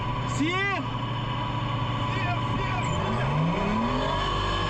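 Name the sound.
armored personnel carrier engine revving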